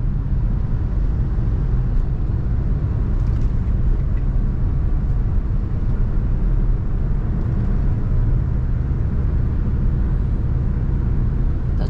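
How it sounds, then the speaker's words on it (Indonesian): A Honda Brio car driving on a road, heard from inside the cabin as a steady low engine and road rumble that stays level and unbroken, with no talking. "Kita jalan-jalan menggunakan Brio."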